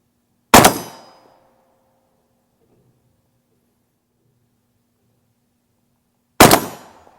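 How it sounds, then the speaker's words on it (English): A Mossberg 930 semi-automatic shotgun with a Weaver KASPA 1-4x24mm scope fires Remington Gun Club skeet loads. Two sharp, loud blasts sound about six seconds apart, each with a short decaying tail and quiet between them. "So I'm just shooting Remington Gun Club through this"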